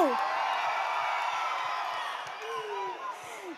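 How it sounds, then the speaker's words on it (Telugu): Crowd cheering and whoops from a live audience at a Telugu film promotional event for Thangalaan, honouring director Pa Ranjith, with a steady wash of applause filling the space and a few whistles rising near the end. "ఒక్కసారి గట్టిగా చప్పట్లు ఫర్ డైరెక్టర్ పా రంజిత్ గారు."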